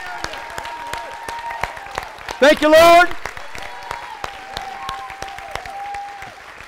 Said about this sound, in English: Let's give God a hand clap for what he's going to do.